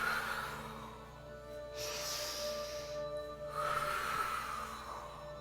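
Long, audible breaths are pushed out through the nose and mouth during a mindful exercise routine, two or three slow airy exhales close to the microphone, with no speech.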